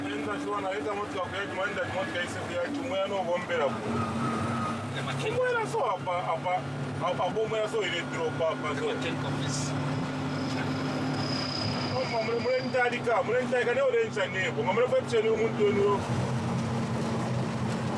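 A vehicle with no brakes drives along a flooded road in Zambia, its engine droning continuously over water noise while a narrator speaks throughout.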